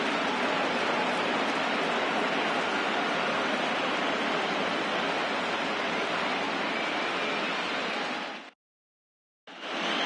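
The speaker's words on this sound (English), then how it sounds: "It's coming down a little heavier now." Heavy rain pours down over a baseball ballpark, a steady dense broadband hiss filling the scene, loud and continuous before cutting out briefly near the end and then resuming.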